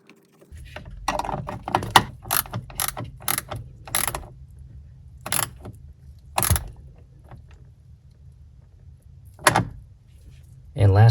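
A washer and 7/16 nut tightened onto a boat outdrive's hydraulic trim pump solenoid, giving a run of close, sharp ratcheting clicks in quick bursts, then a pause and a few more isolated clicks.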